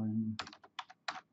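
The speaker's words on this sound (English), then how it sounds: "if I can type it in right" Computer keyboard keys tapped in quick uneven bursts, close and crisp, following a short spoken sound at the start.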